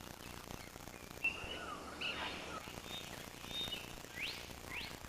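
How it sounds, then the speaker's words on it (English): A blue bird of paradise calls in a New Guinea rainforest: a few short, sharp chirps at moderate distance, spaced irregularly over a steady hiss of insects and forest ambience. "This is a blue bird of paradise."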